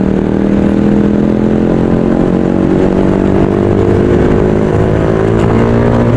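A Honda PCX motorcycle engine hums steadily and loud, its pitch climbing gradually as it picks up speed on an open road, with no talking.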